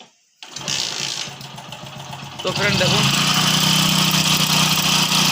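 A Hero Passion Pro motorcycle engine starts and runs with a steady mechanical clatter from worn internals, loud and close, while someone speaks over it at the start.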